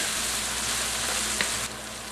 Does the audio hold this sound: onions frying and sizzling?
yes